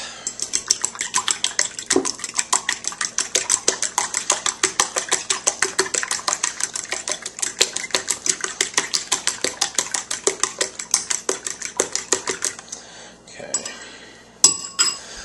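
Omelette ingredients whisked in a bowl with a utensil: a fast, regular run of close, bright clinks for about twelve seconds, then a few slower knocks and a final clank.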